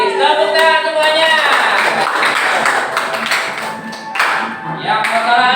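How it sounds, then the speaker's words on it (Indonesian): Seventh-grade students in an informatics classroom clap their hands in a loud, lively burst, with voices calling and chattering throughout the clapping. "Tepuk tangan semuanya."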